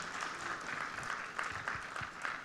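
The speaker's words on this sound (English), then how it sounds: "I wish all of you to give a big round of applause for these two astounding success" Applause from a conference audience, a dense steady wash of many hands clapping at moderate level, fairly even throughout with a few louder claps.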